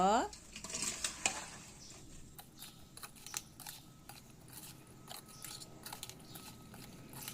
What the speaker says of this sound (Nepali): अब आँप राखेर मजाले मुस्नुपर्छ